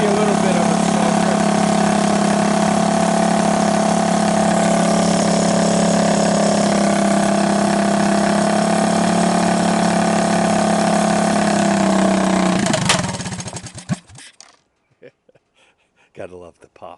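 A rebuilt Honda ATV engine assembled from junk parts runs loud and close in a steady, throbbing idle. It then shuts off abruptly, leaving scattered knocks and quiet handling noises.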